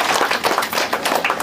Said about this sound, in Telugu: మరి అందుకే చప్పట్లు కొట్టాలి మనవాడి.